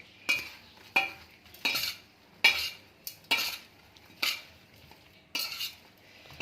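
Red chili powder and crushed red chili being mixed into a vegetable achar, heard as regular sharp clinks and scrapes of a metal spoon against a bowl, about one stroke each second, close and with no talking.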